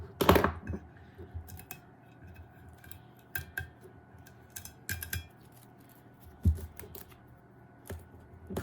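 A blade cuts Mossy Oak vinyl wrap around the rim of a tumbler, making faint scattered clicks, taps and scraping ticks in an irregular rhythm, close by with no talking.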